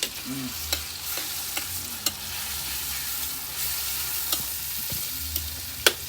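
Spices fry in a pan for a northern Thai minced pork chili dip, with a steady sizzle, occasional spoon clicks and scrapes, and a low background hum.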